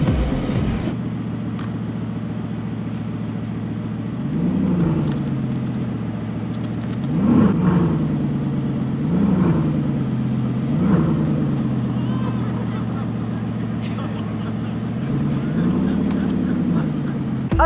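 Bugatti supercar engine on a European road tour, a steady low rumble that rises and swells in several revs, with a voice talking over it throughout.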